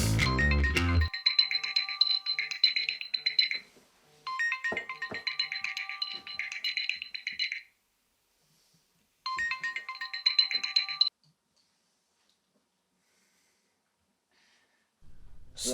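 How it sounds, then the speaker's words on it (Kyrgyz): Phone ringback tone while calling someone, a repeating electronic ring pattern in long bursts separated by silences, clear and alone, with a short rumble at the start. "Siz Алиханга чалып жатасыз."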